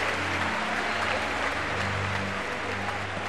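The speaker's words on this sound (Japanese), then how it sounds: "今大きな拍手が" A large crowd in a Seoul gymnasium applauds at a kickboxing event, a broad continuous wash of clapping and cheering heard from a distance beneath a low hum.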